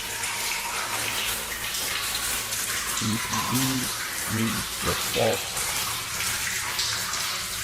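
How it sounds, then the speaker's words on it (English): Steady dripping, trickling water in a mine tunnel fills the background, with a few brief low vocal sounds rising over it midway. "There's water dripping, which drowns out the sound somewhat"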